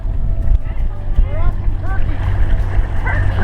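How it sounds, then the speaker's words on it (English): Sailboat's engine running at raised rpm through a narrow channel with a current, a steady low rumble close by, with wind noise and faint chirps over it. "Krista just gave it some more RPMs"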